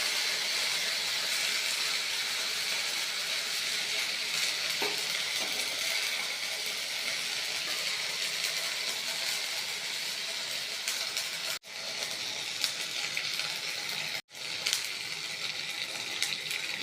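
Ginger paste with green chillies sizzling and spattering in hot spiced oil, a steady close hiss with brief spits, interrupted twice by short gaps.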